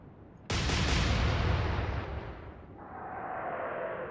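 Naval gun firing at a corvette in the Atlantic Fleet game, one sudden heavy boom that rolls into a long rumbling decay before settling into a steady hiss.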